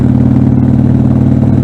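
A Harley-Davidson Sportster motorcycle engine drones loud and steady while riding along Tennessee Highway 232 backroads, a close, continuous low rumble.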